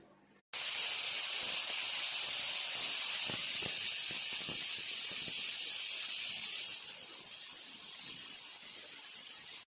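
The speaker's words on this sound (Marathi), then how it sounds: "फुल गॅसवरती आपल्याला याच्या 3 शिट्ट्या काढून घ्यायच्या आहे" A pressure cooker on full gas boiling potatoes gives off a loud, steady hiss of escaping steam that runs almost unbroken for about nine seconds and eases slightly near the end.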